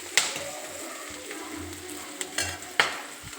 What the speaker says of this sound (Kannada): ಎಣ್ಣೆ ಕಾದಿತ್ತಲ್ಲ, ಸಾಸಿವೆ, ಈರುಳ್ಳಿ, ಬೆಳ್ಳುಳ್ಳಿ ಒಗ್ಗರಣೆಗೆ ಹಾಕ್ಬಿಟ್ಟೆ